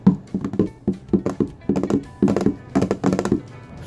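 A box container is struck by hand to make music: a fast, rhythmic series of hollow thunks and taps in uneven groups, close and fairly loud, with no other sound.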